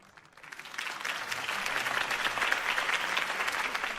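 Applause swells up from quiet into a full, sustained round of clapping from a large crowd at a political campaign event in Batman: The Telltale Series video game, holding steady to the end.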